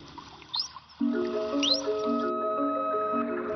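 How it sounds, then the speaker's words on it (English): A dolphin gives a signature whistle: high rising tonal sweeps, first as short chirps and then as a sustained steady whistle with several harmonic lines, fairly loud and close, with no speech. "there is one kind of sound dolphins make that is much more unusual. It's called the signature whistle."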